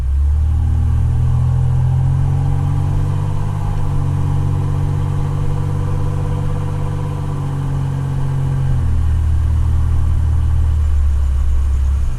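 A Ford Bronco II engine, driven after sitting for over 8 years, drones steadily close by, rising in pitch as it accelerates, then settling back to a lower rumble.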